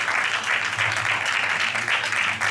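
A church congregation applauds during a religious wedding ceremony, a steady, fairly loud wash of many hands clapping throughout.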